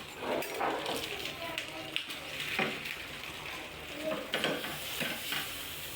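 Baila fish patora fries in a pan just after being flipped, a soft steady sizzle with faint stirring and scraping and a few clicks.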